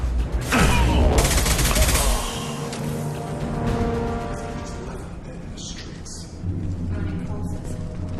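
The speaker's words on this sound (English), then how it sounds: "Taking heavy fire!" Heavy gunfire in Mass Effect 2: a loud, dense burst of rapid shots up front, then continued rattling fire and clatter under a voice calling out during combat.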